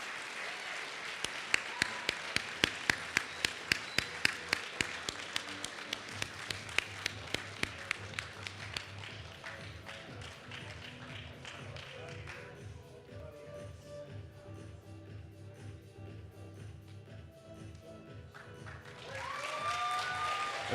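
An audience at the ICPC North America Championship closing ceremony claps for the Carleton College team. Crisp, regular beats ring out over a softer crowd wash, then thin out and fade to a quieter hall, with a swell of noise near the end.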